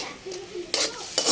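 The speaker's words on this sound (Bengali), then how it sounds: "মশলাটা সুন্দর করে কষানো হলে" Spice paste stir-fried in a pan for a pumpkin and hilsa curry, with a low sizzle broken by two louder bursts of scraping and hissing as the paste is stirred. No one speaks.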